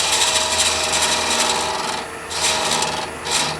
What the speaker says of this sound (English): Light scraping cut.